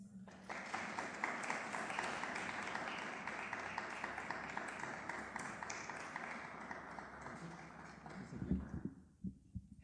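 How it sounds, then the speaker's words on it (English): An audience at an International Women's Day event applauds to welcome a speaker: steady, moderately faint clapping from many hands for about eight seconds, then it dies away into a few dull microphone bumps. "A round of applause, please."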